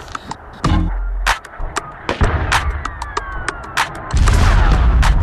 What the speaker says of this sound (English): Explosions and sniper fire have become the soundtrack for the city.